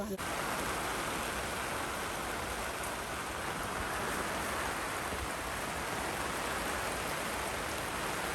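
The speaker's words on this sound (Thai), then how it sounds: "วันนี้ฝนตกค่ะ" Steady afternoon rain falls on a farm plot where watermelon seedlings are being planted, a dense even hiss that stays constant throughout.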